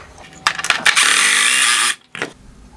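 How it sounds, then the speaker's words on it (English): A bolt on a 2021-2023 Nissan Rogue LED headlight is turned with a tool: a burst of quick clicks, then a loud, steady grinding whir of about a second, and one brief click after it. "turn the headlight adjusting bolt all the way to the left"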